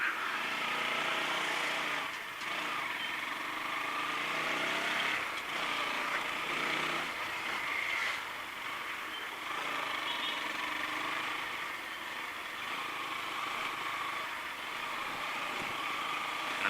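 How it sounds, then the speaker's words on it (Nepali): A faulty motorcycle engine making abnormal noise runs steadily for the whole stretch, its rough, uneven drone holding at constant loudness with no voices over it. "फेरि बाइकबाट आवाज आउन थाल्यो जस्तो."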